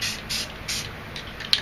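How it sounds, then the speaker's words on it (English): Short hissing bursts of purple spray paint sprayed onto a space painting, three or four brief puffs with a sharper tap near the end, fairly quiet. "I'm going to spray some purple right there"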